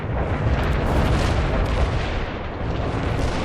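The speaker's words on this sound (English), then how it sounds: "Artillery strike hit the mark." Artillery strike explosions from the World in Conflict strategy game roll together as a dense, continuous barrage of deep booms and rumbling blasts, loud and sustained with no pauses, and no voices.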